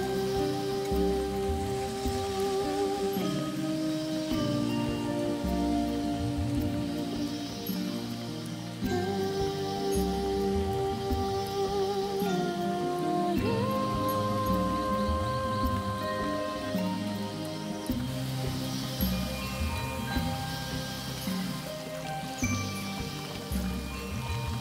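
Steady rain falls through a dense tropical rainforest, a continuous wash of drops on leaves and ground, heard close and full with no voices over it.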